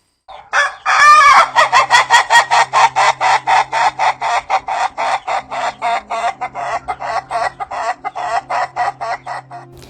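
Chickens on a farm cackle and cluck loudly and close up, opening with a strained rooster-like crow, then settling into a steady, rapid rhythmic cackle that repeats for several seconds over a low background hum.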